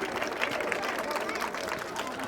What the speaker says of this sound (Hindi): तालियों से स्वागत इन बच्चियों का, बहुत ही बढ़िया तालियों से स्वागत।